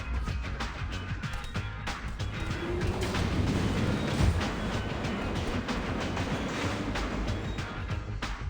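Train moving in a Teenage Mutant Ninja Turtles video game, a steady rumbling roll with rhythmic rail clatter and a brief rising whine midway, continuous and fairly close.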